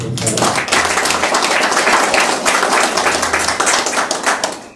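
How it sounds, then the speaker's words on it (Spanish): Audience at a literary conversation event in Peru applauding, a loud, continuous burst of dense clapping that fills the whole stretch and tails off at the end, with faint voices beneath. "Aplausos para Ayun Perú Internacional, por favor"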